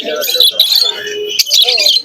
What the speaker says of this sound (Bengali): ফেন্সি কবুতর